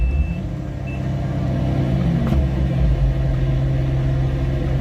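A John Deere machine's engine idles at a deep rumble and then swells as it gets a little gas, with a short electronic beep near the start while unloading pulpwood.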